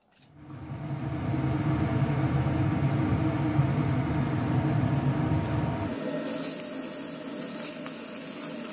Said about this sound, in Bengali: এইগুলোকে প্রথমে আমি নুন হলুদ দিয়ে মেখে ভেজে নেব